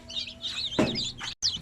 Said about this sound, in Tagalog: So ito yung ating mga sisiw